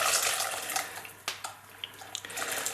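A litre of stock pours into a pan in the kitchen, a close liquid splash and trickle that rushes at first, then thins into irregular splatters and drips.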